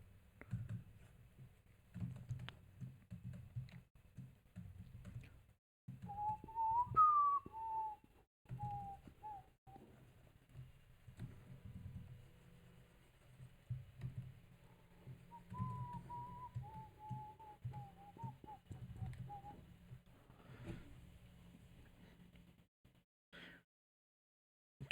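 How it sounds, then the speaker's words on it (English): A person whistles casually and softly, a few wavering sustained notes in two short phrases over a low background hum and faint clicks, close and quiet. "I'm gonna whistle."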